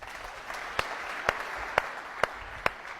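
Applause from an audience after a speech in Chad, a steady wash of clapping with several sharper individual claps standing out at a moderate distance, no talk over it.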